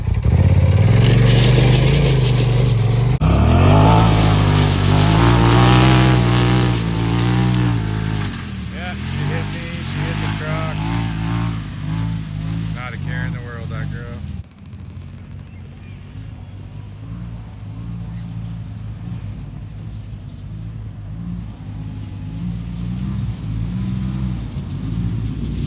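A 2022 Polaris RZR Turbo R side-by-side in track suspension mode roars loudly as it accelerates and revs, the engine note rising and falling through gear changes, then drops to a steadier, quieter drone, with people talking over it.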